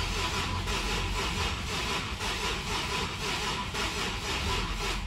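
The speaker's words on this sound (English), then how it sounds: "I'm gonna move inside the vehicle and crank the engine." A Nissan Infiniti G37 that cranks but won't start, its starter turning the engine over in a steady, loud, rhythmic churn that runs without a break and with no voices.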